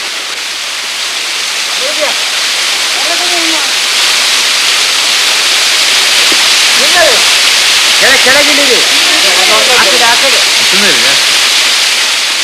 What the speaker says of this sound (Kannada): ಸುಮಾರು ನಲವತ್ತೈದು ಐವತ್ತು ಅಡಿಗಳಷ್ಟು ಎತ್ತರದಿಂದ ಈ ಹೃದಕ್ಕೆ ವರ್ಷವಿಡೀ ಧುಮುಕುತ್ತಲೇ ಇರುತ್ತದೆ